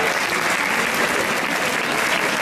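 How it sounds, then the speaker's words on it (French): An audience at a Gavotte Rouzig dance competition in Gourin applauds the judges, a dense continuous wash of many hands clapping, loud and close, with no voices standing out. "On peut les applaudir."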